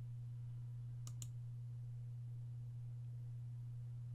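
Two quick computer mouse clicks on the Finish button in Sigma estimating software, faint and close together over a steady low electrical hum.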